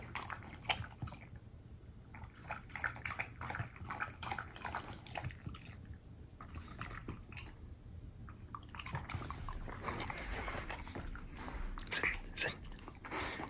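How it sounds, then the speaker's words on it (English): Wet, rapid lapping and slurping of a dog drinking water, close and fairly loud, continuing with irregular rhythm throughout. "his loud slurping make it sound like the water is extra delicious"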